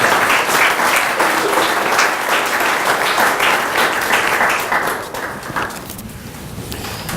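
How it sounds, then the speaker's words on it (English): Loud, sustained applause from an audience honoring a student at a county high school arts achievement presentation, steady clapping that thins slightly toward the end. "Let's please give Madison a round of applause."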